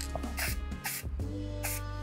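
Aerosol bursts of AESUB 3D scanning spray hit a computer motherboard at close range, several short hissing blasts over a steady background hum.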